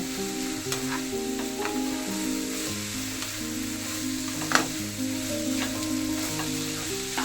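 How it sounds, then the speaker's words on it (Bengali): Spice masala for a chicken singara filling sizzles steadily in a pan, with scraping stir strokes and one sharper knock along the way. "এবার আমি মশলাটাকে ভালো করে কষব"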